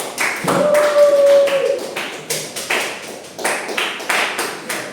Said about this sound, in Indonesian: tepuk tangan untuk Feli dulu